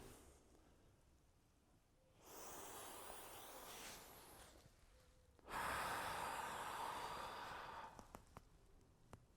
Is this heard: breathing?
yes